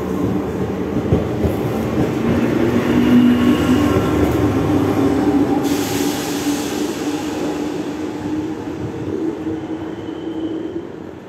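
An RER C commuter train, class 8800, rumbles steadily past at Champ de Mars in Paris with a low mechanical drone, faint rail clatter and a brief high whine, fairly close and continuous.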